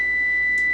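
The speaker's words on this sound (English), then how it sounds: "Here goes my timer. I've got to check those squares in the oven." A kitchen oven timer gives a single steady electronic beep that holds for nearly a second, loud and close against a faint room hum.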